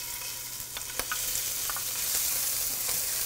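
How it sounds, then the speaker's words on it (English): Garlic sizzling in olive oil in a pan gives a steady, dense hiss close up, with a few sharp clicks and stirring knocks, continuous and without speech. "We're going to put some olive oil and garlic in a pan."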